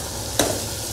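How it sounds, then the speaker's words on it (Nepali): Mutton frying in a pan with ginger garlic paste and green chillies, a single short sizzling burst as the ingredients are stirred in over a steady background hiss. "त्यो हालेर टक्क भुट्छु एकछिन है"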